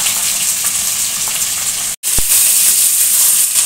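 Whole garam masala, two bay leaves, onions, garlic and green chillies sizzling in hot oil, a loud, constant hiss that cuts out for an instant and then returns even stronger.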